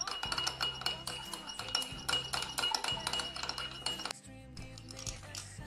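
Spoon clinking against a glass bowl while lemon juice and salt are stirred into a dressing for arugula salad, a rapid repeated chinking close up with a low background hum.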